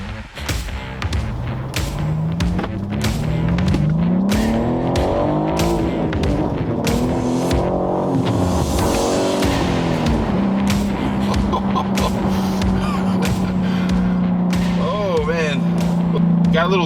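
BMW G80 M3 being driven after its 1200-mile break-in service: the engine climbs repeatedly through rising revs, drops at shifts, then settles into a steady drone, with sharp ticks and a brief tire squeal near the end.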